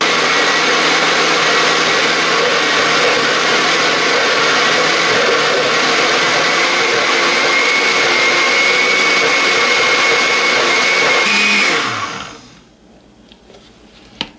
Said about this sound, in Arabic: ابتدي اشغل الخلاط واضيف الزيت والخل بالتبادل